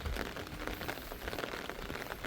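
Rain falls over a rice paddy, a steady faint hiss of drops pattering on water and ground with no other sound standing out.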